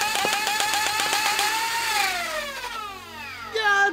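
Motor-driven 3D printed Nerf blaster fitted with a 600 RPM motor firing a rapid burst of darts, a quick steady rattle of shots over a rising and falling motor whine, close and loud throughout.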